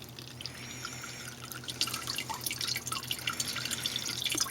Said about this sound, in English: So we're actually going to go ahead and pour this into the filter